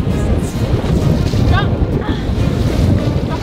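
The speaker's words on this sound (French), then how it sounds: "ce matin-là, il ventait énormément." Strong, gusting wind roars across a boat out at sea on a very windy morning, with waves and water washing around the hull in a dense, loud, steady rush; a faint voice is briefly audible under the noise.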